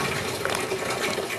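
Water pumped up in a small aquaponics system pours down through a little siphon valve, making a steady close gushing rush with no break.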